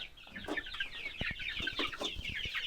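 Hens cluck softly and repeatedly nearby, a scattered run of short calls with faint chirps, no talking.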